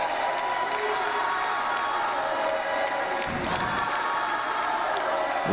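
A crowd roars and cheers steadily throughout an MMA fight at a Batalha MMA 8 event, a dense, continuous wall of noise at a fairly close distance, with a brief low thump partway through.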